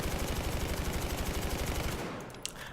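An A-91 rifle in Battlefield 4 fires a rapid, evenly spaced automatic burst for about two seconds, then cuts off, leaving a brief fading tail and a faint click.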